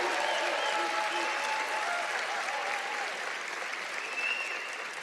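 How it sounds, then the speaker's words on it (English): Sustained applause from a large crowd fills the clip, steady and dense, with a few faint voices mixed in. "Give them a round of applause"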